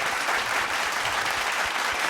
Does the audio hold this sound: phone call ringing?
no